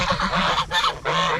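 Geese honking close by on a pasture farm, a series of loud, nasal calls in quick overlapping bursts over little more than a second, with no voices.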